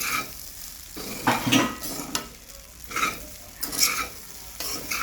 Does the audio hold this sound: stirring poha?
yes